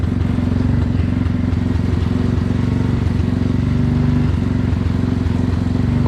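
A vehicle engine idles loudly and close while its clutch is tested, a steady low throbbing chug with a regular mechanical clatter and no talk.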